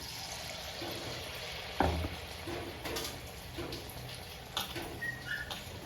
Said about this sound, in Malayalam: എന്നിട്ട് നമ്മുടെ ചൂടായി കിടക്കുന്ന എണ്ണയിലേക്ക് ഇട്ട് കൊടുക്കുക